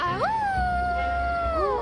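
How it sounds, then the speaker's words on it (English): A voice howls like a wolf, one long wavering note that rises quickly, holds steady, then glides down at the end, clear and alone. "Judy howled."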